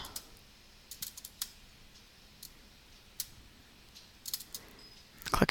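A computer mouse clicks as a color is sampled in digital painting software, giving a scattering of light, sharp clicks spread across a quiet room, with a denser burst of clicking near the end.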